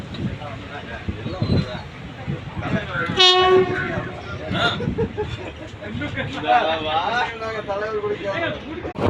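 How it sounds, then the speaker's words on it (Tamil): A train arrives on the Palani to Dindigul line, rumbling along as a loud horn blasts once, with people talking nearby and rail clatter continuing afterward. "எட்டு இருபத்தஞ்சுக்கு ட்ரெயின் வந்துடும்"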